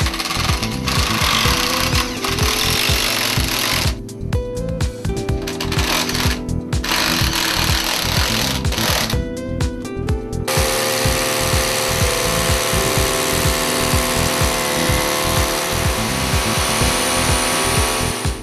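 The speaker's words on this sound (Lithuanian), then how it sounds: "Dabar tvirtinimo varžtais pritvirtiname lango rėmą prie sienos." Power tool driving fixing screws through a PVC window frame into a wall during window installation, a loud continuous buzzing drill with rhythmic mechanical rattling, briefly pausing twice before running steadily again.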